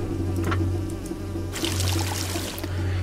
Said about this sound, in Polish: pszczoły odleciały.